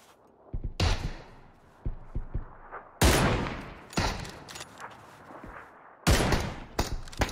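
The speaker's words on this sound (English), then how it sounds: "We're getting shot by everybody, those guys." Bursts of gunfire in the PUBG battle-royale game, several loud volleys with sharp onsets at intervals, interspersed with single thudding shots and quieter gaps, no talk.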